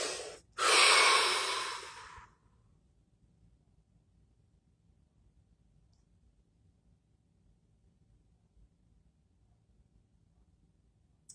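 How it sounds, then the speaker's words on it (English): A single deep, full breath drawn in and released near the start, loud and close, followed by near silence, at the close of a guided body-relaxation session. "Take a deep breath."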